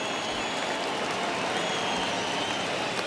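A stadium crowd roars in the baseball video game MLB The Show 21 during a Dodgers vs. Padres game, over 39,000 fans on their feet. The cheering is a loud, steady wash of noise throughout.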